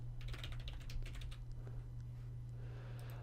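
A computer keyboard clatters in quick, irregular bursts of keystrokes over a steady low hum, fairly faint, with the typing thinning out toward the end.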